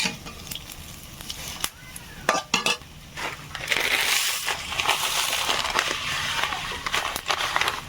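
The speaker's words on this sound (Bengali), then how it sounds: "তেলের মধ্যে এখন এই শিঙিগুলো দিয়ে দেবো" Pieces of drumstick (moringa pods) broken up and stirred in hot oil in a Sundarbans village kitchen, with scraping stirs, clatters of a utensil against the pot and a steady sizzle building toward the end.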